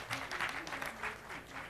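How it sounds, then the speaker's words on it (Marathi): An audience at a sericulture talk applauds, a short burst of scattered clapping from a room, moderately faint and uneven. "तुम्ही टाळ्या वाजवा."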